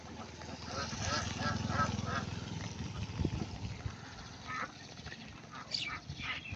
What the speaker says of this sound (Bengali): এই নেটের ভিতরে কিন্তু হাঁসগুলা।